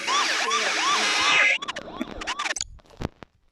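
Police siren in the driving game Car Simulator 2, wailing loudly in repeated rising sweeps for about a second and a half, then cutting off into scattered game clicks and thuds.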